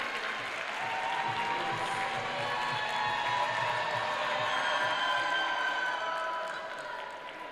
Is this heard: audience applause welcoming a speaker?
yes